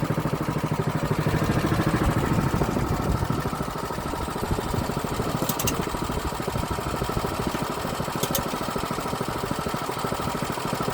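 A band sawmill engine runs, loud at first, then is throttled down and settles into a steady, rapid, lumpy idle that carries on close by for the rest of the clip.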